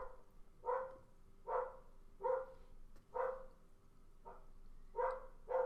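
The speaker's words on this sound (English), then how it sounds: "Who let the dog out?" A dog barks outside in a steady series of about eight short, faint barks spaced under a second apart, heard at a distance over quiet room noise.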